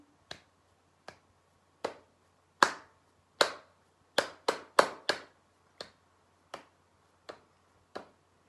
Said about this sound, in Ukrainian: Далі плескаємо в долоні тихо, а потім голосно у різному темпі.